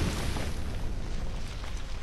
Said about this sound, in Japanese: バグってて爆発音ずーっと止まらないんで